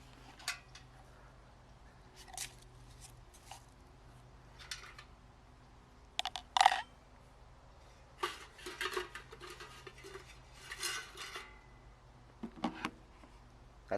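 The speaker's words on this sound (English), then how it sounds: "So we'll open up our kettle pot here." A camp stove kettle pot being opened at an outdoor camp stove setup: faint scattered metallic clinks and scrapes of lid and pot parts, in short irregular bursts over a quiet background, with no speech.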